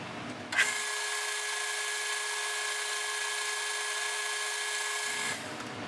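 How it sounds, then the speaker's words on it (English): A drill bit runs through a machined part for a 1971 Honda CB750 motorcycle, a steady high whine with a sharp onset, holding evenly for about five seconds before stopping. "we're going to run another drill bit through it"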